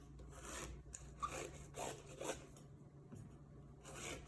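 A knife slicing into a watermelon in short rasping strokes, several separate cuts through the rind and flesh close by, each a brief scraping rush, with no talking.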